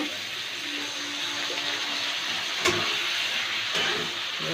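Water poured into a curry pan of sizzling potatoes sets off a steady, close steam-like hiss and sizzle that runs the whole time, with a couple of soft knocks and a voice speaking faintly underneath.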